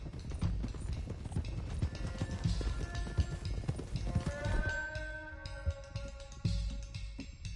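Horses gallop in Red Dead Redemption 2, a steady rapid clip-clop of hooves with a brief whinny, layered under game music and ambient noise without pause.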